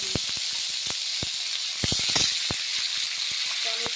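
Oil spatters and crackles while a tomato and cashew paste fries in a pan, with a steady sizzle broken by sharp, irregular pops up close.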